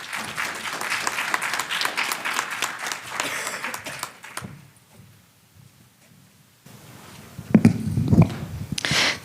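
Applause from an audience at a panel event for presenters, a dense burst of clapping that fades to near silence, then a second, closer flurry of claps and handling noise rises again.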